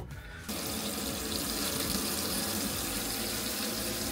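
New tap in a camper van turned on at higher pressure, water gushing in a strong, steady, close rush that starts abruptly and continues unbroken.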